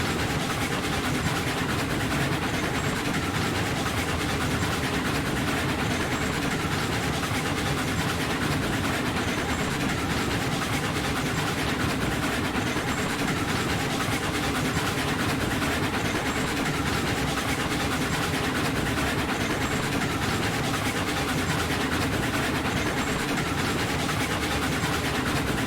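Simulated steam train from Railroads Online running steadily under throttle, a continuous loud rumble of engine and rolling wheels with faint rhythmic clanks, no talk throughout.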